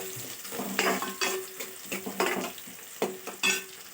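Something frying and being stirred in a pan while rice is cooked, with irregular bursts of sizzling and scraping close by and no talking.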